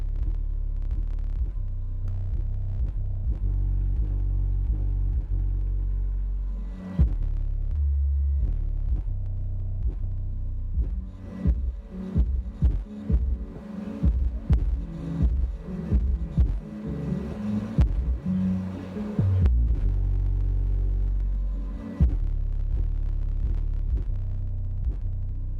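An Audiopipe TS-PP2-12 12-inch car subwoofer is driven near RMS power on an amplifier dyno test, putting out heavy low-frequency rumble and throbbing bass pulses, steady at first and then choppy.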